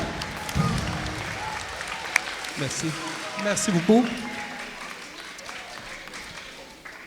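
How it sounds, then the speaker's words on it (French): Audience applause at a school Black History Month orchestra event greets a guest as he is introduced, a steady wash of clapping from a crowded hall that fades gradually, with a man briefly thanking the crowd over it. "veuillez applaudir M."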